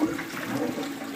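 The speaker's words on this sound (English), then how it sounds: "Air flows up, and when it does, it gurgles, it pulls up water and gurgles it out into the fish tank." An air-lift pump gurgles water up from a sump tank and spills it into a fish tank in a bioshelter, making a brief, continuous bubbling rush with no speech over it.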